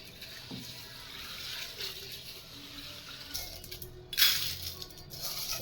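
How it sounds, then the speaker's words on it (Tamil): Horse gram being rinsed by hand in a pot of water, with soft sloshing and a brief louder splash and rattle of grains near the end, close and fairly quiet, with no talking. "ஒரு குண்டானில் கொள்ளு எடுத்து நல்லா அலசி எடுத்து வச்சுக்கலாம். நல்லா கழுவிக்கலாம்."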